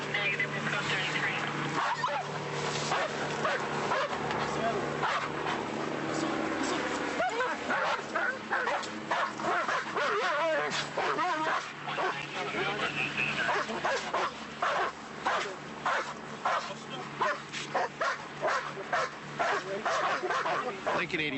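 A dog in a police scene in Fresno, California, barks and yips repeatedly, then whimpers, close and loud, while voices and radio chatter run underneath throughout.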